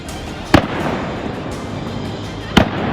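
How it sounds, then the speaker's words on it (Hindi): Two sharp gunshots during the Pahalgam terror attack in Jammu and Kashmir, cracking out about two seconds apart over a noisy outdoor background, fairly near and loud. "तब तक दूसरी और तीसरी गोली की आवाज होती है।"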